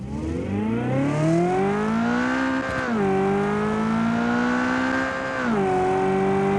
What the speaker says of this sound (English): this is what the V8 sounds like normally